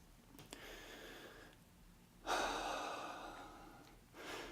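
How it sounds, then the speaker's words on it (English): Slow, deep breaths are drawn in and let out close to the microphone, two long airy inhales and exhales with a quiet pause between them. "I take a few deep breaths."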